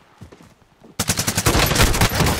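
Bursts of rapid video game gunfire come in abruptly and loudly after a quiet opening, sounding like sustained automatic shooting that fills the rest of the moment.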